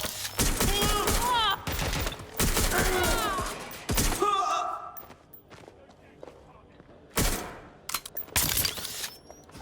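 Gunfire rings out in the video game Watch Dogs Legion, with bursts of rapid shots and sharp impacts separated by brief lulls, mixed with grunts, footsteps and game voices.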